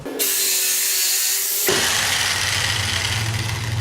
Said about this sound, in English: I am going to use Steve Ramsey's method of dismantling a pallet by using my jigsaw.